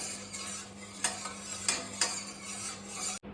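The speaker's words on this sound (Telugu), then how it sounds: "పాలలో రెండు టేబుల్ స్పూన్ల కస్టర్డ్ పౌడర్ని వేసి ముద్దలు లేకుండా బాగా మిక్స్ చేయండి" A spoon scrapes and clinks against a bowl in a few rhythmic strokes while custard powder is stirred into milk, ending with a brief dropout.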